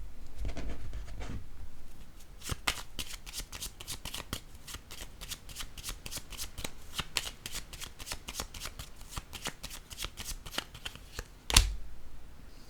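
Tarot cards are shuffled for a reading, a long close run of rapid riffling flicks in a steady rhythm, ending in a sharp louder tap, with no speech.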